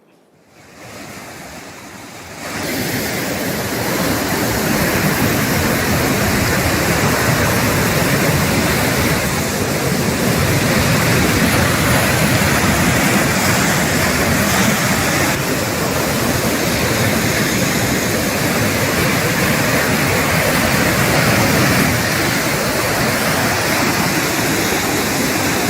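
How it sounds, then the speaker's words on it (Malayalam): Floodwater pours over a bridge in Kannur's hill region during heavy rain, a steady, loud roaring rush of water that builds within the first few seconds and then holds without a break. "പാലം കവിഞ്ഞും വെള്ളം ഒഴുകുകയാണ്."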